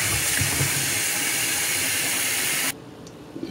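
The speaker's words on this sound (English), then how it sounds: "Guys, I'm washing the banana because I boil them in the skin for them not to break up while cooking." Bananas being washed under running water, a loud steady hiss of pouring water that stops abruptly near the end, followed by quiet with a faint clink; no talking.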